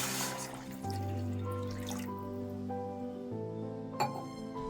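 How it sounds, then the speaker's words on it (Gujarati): A glass of water goes into half-sautéed vegetables for a veg Manchow soup, a quiet splashing pour at first that settles into soft bubbling and faint liquid movement in the pan, with no voices. "તો હવે આપણે એમાં 1 ગ્લાસ પાણી નાખીશું"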